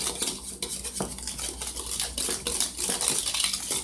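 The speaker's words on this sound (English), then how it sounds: "And you just whisk that together." A whisk briskly beats sugar and flour together in a bowl, a steady run of rapid close-up scraping and clinking strokes against the bowl's sides with no talking.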